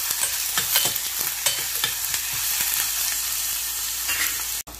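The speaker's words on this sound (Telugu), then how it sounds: "సో ఆనియన్ చక్కగా వేగిపోయాయండి," Onions sizzling in a pan for a brinjal masala, with whole cloves and cardamom, a steady close hiss broken by several sharp scraping stirs and a brief dropout near the end.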